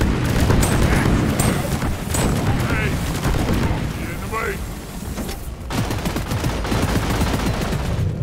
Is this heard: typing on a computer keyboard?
no